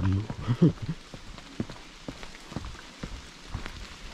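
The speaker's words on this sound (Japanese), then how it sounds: "雨が降ってきたよ。" Rain begins pattering on a summer mountain climbing trail on Daisen, scattered light drops ticking close by, with brief voices at the start.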